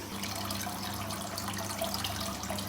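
Cold water runs in a steady, moderately quiet stream onto ground soybeans during tofu making, like water pouring from a tap, with a low hum beneath.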